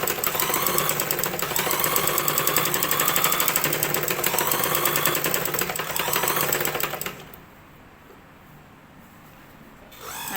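A sewing machine stitching the back part of a blouse runs in a fast, steady rattling patter for about seven seconds, then stops, leaving quiet handling noise before a brief restart.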